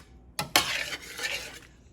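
A spoon stirs a curdled cream sauce in a pot on the stove, giving a couple of sharp clinks against the pot followed by a soft wet scraping swirl, close and brief.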